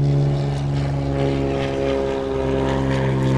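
A seaplane's propeller engine drones loudly and steadily nearby, a strong continuous hum with a thick stack of harmonics that holds without a break throughout, with no voices over it.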